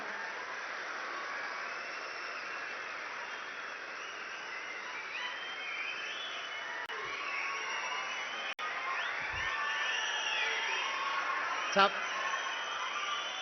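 A large political rally crowd answering a chief minister's speech with sustained applause and cheering, a distant dense wash of clapping and shouts filling the whole stretch at a steady level, with a faint voice carrying over it.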